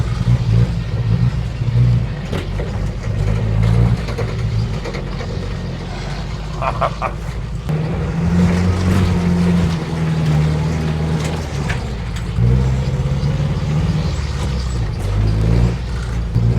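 An old Russian SUV in two-wheel drive labors through sand on a forest trail, its engine droning and straining loudly and continuously with surges of revving, no voices over it.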